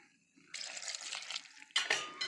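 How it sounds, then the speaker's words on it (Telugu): A small amount of water is poured into a pot of tomato curry, producing a short splashing burst of about a second followed by a brief second splash, close and fairly quiet. "చూసారు కదా, కొద్దిగా నీళ్ళు పోసుకుందాం."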